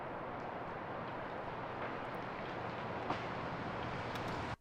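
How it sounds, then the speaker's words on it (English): Steady backyard rain forms a dense, even hiss that stays constant throughout at low level with no voices, then cuts off abruptly at the end. "This is just backyard rain ambience."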